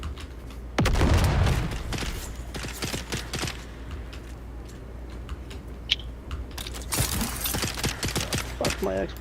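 Grenade explosion followed by scattered gunfire in the video game Dune Awakening: a loud, sudden low boom, then sporadic sharp shots and mechanical clatter fading into busy background noise.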